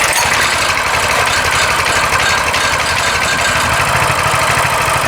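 Coleman CT200U mini bike engine running at a steady idle after a pull start, a loud continuous chugging rumble with no voices.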